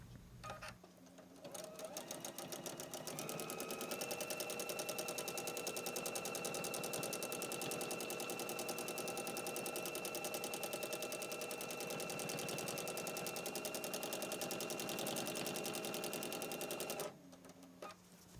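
A sewing machine stitches quilted feather plumes along a long border, its needle running in a fast, steady, even rattle for most of the stretch before stopping near the end.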